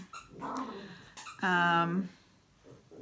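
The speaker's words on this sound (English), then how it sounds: "Excuse the dogs if you can hear scruffing in the background." Puppies growl and scuffle in a playful tussle, with a loud drawn-out growl in the middle and softer snarls around it, fairly close.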